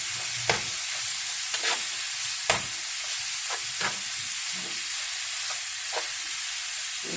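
Salt being stirred into lasagna sauce in a hot pan, with a steady sizzle underneath and several sharp scrape-and-clack spoon strokes against the pan at irregular intervals, close up and with no talking.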